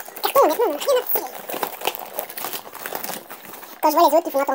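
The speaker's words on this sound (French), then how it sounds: "Oh, elle l'a emballé dans du papier cadeau." Wrapping paper crinkles and tears as a gift is unwrapped indoors, a busy, close rustling that runs through the whole moment while people talk over it.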